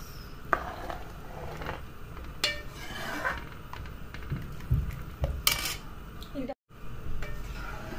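Metal ladle scraping and clinking against a cooking pot while stirring a rustic drumstick (moringa pod) curry in black masala gravy, with several sharp knocks amid softer scraping and a brief silent gap near the end.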